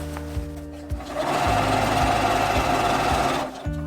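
A sewing machine stitches a baker boy cap in one close, loud, steady run of rapid mechanical clatter, starting and stopping sharply, with no talk over it.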